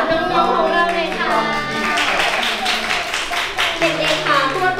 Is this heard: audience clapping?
yes